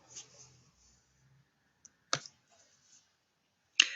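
Mouse clicks exiting Excel on an office computer: a faint click, then a sharper one near the middle and a loud click at the end, each short and isolated against quiet, with faint murmuring early on.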